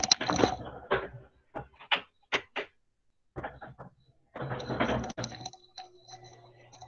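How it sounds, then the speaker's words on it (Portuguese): An electric fan being switched on indoors: a series of sharp clicks and handling knocks with short silences between them, then a steady low motor hum that sets in and continues to the end. "Deixa eu ligar aqui rapidinho o ventilador."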